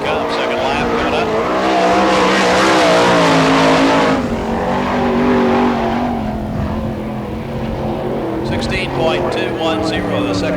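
Sprint car on the dirt track at Barberville, Florida, All Star Circuit of Champions Speedweek, roaring loudly with a rising and falling engine note as it laps, a race announcer talking over the din.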